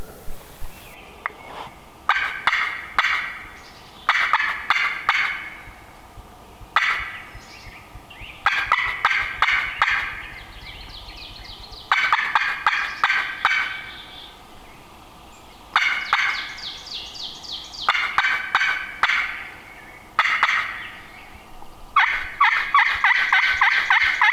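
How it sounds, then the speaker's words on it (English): A wild turkey gobbles again and again in a river bottom during spring, each loud, rattling call followed by a short pause, keeping an uneven rhythm throughout. "You sure it's gobble? I'm pretty sure it's gobble."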